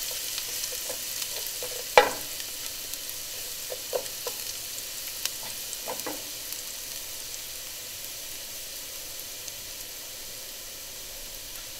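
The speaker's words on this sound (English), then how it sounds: "So in goes the onion." Onion sizzles and fries quietly in a pan for aloo gobi, a soft steady hiss broken by a few sharp clinks and stirring knocks near the start, and a brief spoken word.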